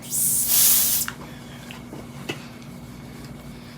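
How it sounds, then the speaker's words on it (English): A loud, steady hiss of men's body spray lasting about a second, followed by quiet room noise and a couple of faint clicks. "so we're gonna give this a spray here."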